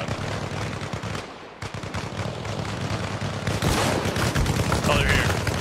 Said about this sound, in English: Oh wait, now machine gun.